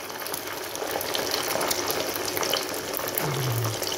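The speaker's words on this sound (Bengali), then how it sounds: "ওহ, 3টা ডিমের একবারে কড়াইয়ে বইরা গেল গা।" Three eggs fry together in oil in a karahi pan on an unevenly heating cooker, giving a steady, close sizzling hiss with soft bubbling throughout and no talking.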